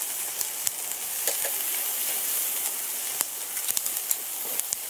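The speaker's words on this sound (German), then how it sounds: "Das Kachelfleisch vom Rind kommt auf den Grill." Beef Kachelfleisch steak sizzles steadily on a preheated Weber Go Anywhere charcoal grill, a close, continuous bright hiss with scattered sharp pops and crackles throughout, no voices.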